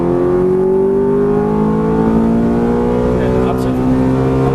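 A Ferrari F430 accelerates hard on a racetrack, its engine note climbing steadily in pitch as a loud, continuous roar heard from inside the car, with someone talking over it.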